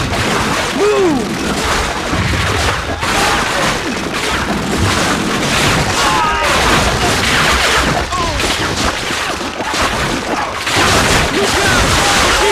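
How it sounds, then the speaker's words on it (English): Dense machine-gun fire and booming explosions from a World War II battle in the PS2 shooter Call of Duty: Finest Hour, a loud continuous barrage with crashes throughout and shouted voices under the din. "Look out! Machine guns firing!"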